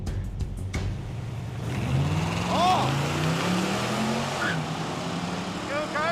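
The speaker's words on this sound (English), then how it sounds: "Oh, the C2's on the rev limiter." A 1966 Corvette C2 drag racing down the strip, its engine roaring loud and steady as it holds against the rev limiter alongside another car, with a brief shout over the noise.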